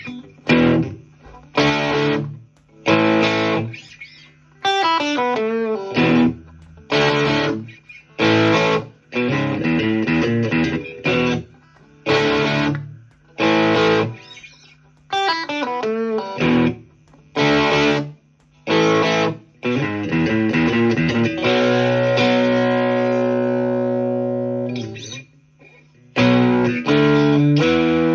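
A Squier Stratocaster Classic Vibe '50s plays through a Fender Frontman 25R amp on light overdrive with the middle and bridge pickups combined, producing loud, choppy strummed chords and short riffs separated by quick gaps, ending in a longer ringing chord.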